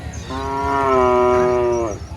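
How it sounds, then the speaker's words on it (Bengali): A bull calf at a Rajshahi cattle market gives one long, loud, sustained moo that swells and fades, heard alone and close. "এই একটা ষাঁড় বাছুর দেখেন।"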